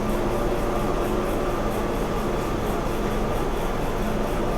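A large flex printing machine runs steadily while printing a Honda agency hoarding, giving a continuous mechanical hum and whir with faint rhythmic pulsing, fairly loud and unbroken, with no talking.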